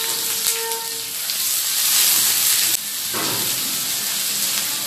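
Two medium onions hit hot oil in a pan, giving a loud, steady hiss and sizzle that stays dense throughout, dips briefly, then continues strongly.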